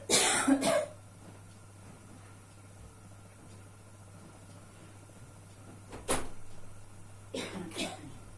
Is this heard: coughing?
yes